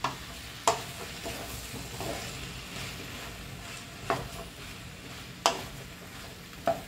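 Spoon scraping and stirring okra, maxixe and charque in a pan, with a low steady sizzle underneath and a few sharp clacks against the pan at irregular intervals.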